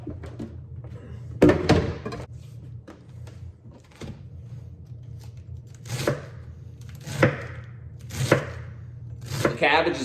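A knife chops cabbage finely on a board for sauerkraut, with a burst of rapid strokes early and then single heavier cuts spaced a second or so apart, close over a low kitchen hum.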